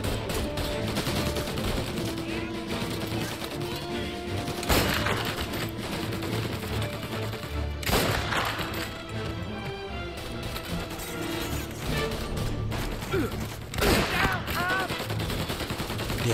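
Sustained gunfire in the Mafia Definitive Edition video game, dense bursts of shots with heavier booms around several moments, loud and continuous with game sounds and occasional voices underneath.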